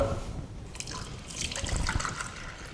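Water poured from a container into a vessel to dissolve ascorbic acid (vitamin C) for a red cabbage juice demonstration, a soft splashing trickle that swells briefly midway, fairly faint against room tone.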